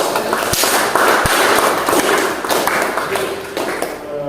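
Classroom audience clapping during an Indonesian history teaching session, loud and close, a dense burst of hand claps with a few sharp louder smacks, continuing for several seconds.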